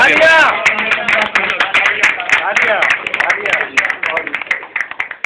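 Scattered claps from an audience at a mushaira, an Urdu poetry gathering, rising sparsely after a stretch of talking; the claps stay thin and uneven rather than swelling into full applause.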